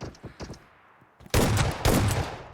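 Bursts of gunfire in a shooter video game, rapid automatic shots after a quieter stretch, loud and close, with brief voices among the shots.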